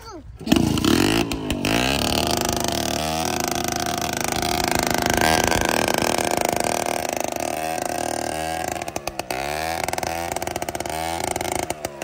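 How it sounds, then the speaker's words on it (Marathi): Onion-loaded tractor stuck in a muddy field, its engine cranking and revving loudly and steadily with a rough, throbbing note throughout, while people talk over it. "जीवा माव कांदे भरून दिले पाकच ट्रॅक्टर अटकवून दिला. चालू कर बरं."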